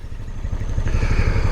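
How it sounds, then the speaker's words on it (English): A 2023 Arctic Cat Mudpro 600 off-road vehicle runs with a steady, low, throbbing engine rumble on a mud trail, close and continuous with a fairly muted note and no talk. "the engine note on this thing is pretty quiet, very decent"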